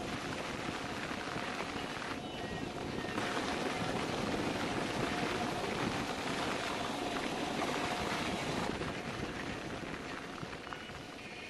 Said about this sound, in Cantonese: 呢度有個瀑布